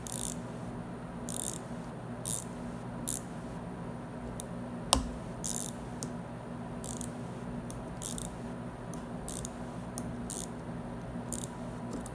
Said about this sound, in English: Then we're just going to tighten up this bolt here.